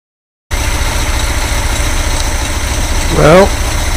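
Air-cooled Volkswagen engine fitted with a Powerspark distributor, idling at a steady tick-over with an even, continuous rumble close by that rises briefly near the end.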